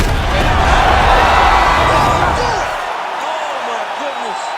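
Virtual arena crowd in the UFC 5 fighting game roars loudly after a fight-ending strike, a dense sustained wash of cheering that eases off partway through while a commentator's voice carries over it.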